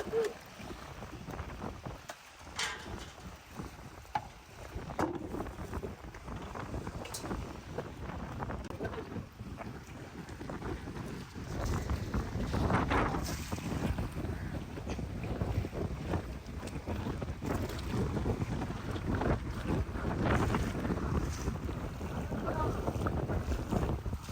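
Wind gusts across a seashore, a broad, steady roar buffeting the microphone and swelling louder in the second half, with faint talk in the background.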